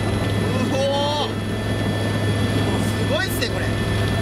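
A helicopter lifts off nearby, its rotors churning a steady low roar and rushing wind, while excited voices exclaim over the noise.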